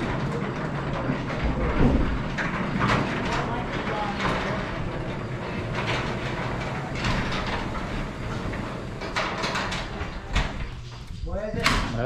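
A newly installed garage door on a restored 1820s barn rolls open under a remote opener, giving a continuous rattling rumble with scattered clanks for about twelve seconds while people talk nearby.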